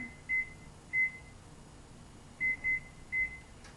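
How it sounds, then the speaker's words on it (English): An oven timer beeps as it is reset in a home kitchen, giving five short, thin electronic beeps in two irregular clusters over a faint background hiss, with no talk. "Reset the timer."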